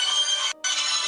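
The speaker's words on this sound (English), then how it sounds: "That your ringtone?" A phone ringtone plays two loud electronic tone bursts separated by a brief gap, with nothing else heard.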